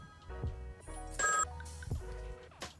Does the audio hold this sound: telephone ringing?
yes